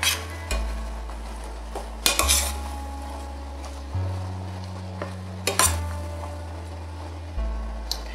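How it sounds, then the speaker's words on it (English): Mac and cheese stirred in a pot, with repeated spoon clanks and scrapes against metal every second or two over a low cooking hum, close and fairly loud, with no talk. "Just keep stirring that."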